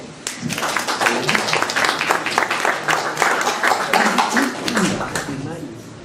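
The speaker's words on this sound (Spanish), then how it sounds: "Un aplauso, por favor" An audience applauds a speaker being introduced at a lecture on exhibitions and museography, with steady, dense clapping that fills the room throughout and holds at a fairly even level.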